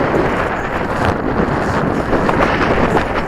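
Strong wind roars continuously across the microphone, a loud, buffeting rush with no voices.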